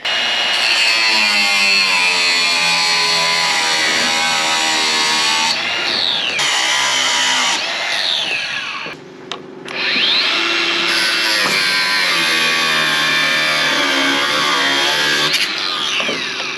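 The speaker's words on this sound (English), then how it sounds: "I'm just gonna start grinding off all these threads and the bolts at the front there" An angle grinder whines loudly as it cuts through steel bolts, the pitch shifting under load, with a brief pause before the grinding resumes.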